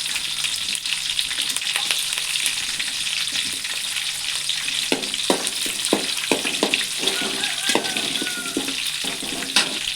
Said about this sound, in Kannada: ಹಸಿಮೆಣಸು ಹಾಕ್ತೆ, 4 ಹಸಿಮೆಣಸು ಒಗ್ಗರಣೆಗೆ.